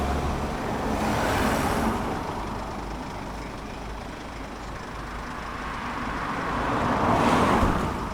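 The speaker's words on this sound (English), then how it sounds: "I'm going to move my vehicle now" A vehicle drives away near the Tinker Lane fracking site: steady engine and road noise swells at the start, dips in the middle and rises again near the end, with no talking.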